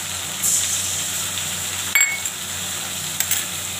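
Onion frying in a pan with ginger and garlic paste, a steady bright sizzle with a couple of spoon clinks against the pan.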